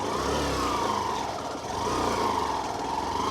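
A Hero Glamour Xtec 125 motorcycle ridden over a rough, broken road, its engine humming steadily up close with one brief dip in the middle while the engine note rises and falls.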